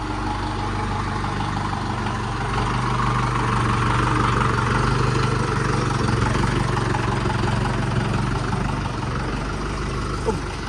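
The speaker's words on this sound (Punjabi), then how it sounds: "ਪਹਿਲਾਂ ਸਟਾਰਟ ਕਰ ਲਿਆ ਬਾਈ 5 ਮਿੰਟ ਟਰੈਕਟਰ" A heavy tractor engine idles nearby with a steady, throbbing low rumble that holds constant for the whole stretch.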